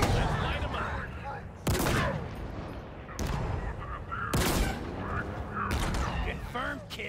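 Base defense turrets fire in Halo Infinite in heavy bursts of gunfire, loud and close, broken by short pauses, with mechanical clatter and game voices between the volleys.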